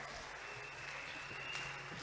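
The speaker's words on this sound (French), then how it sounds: "Honor the word of God with your clap offering." A church congregation applauds together during an Easter service, a soft, continuous patter of many hands heard from a distance with no voices over it.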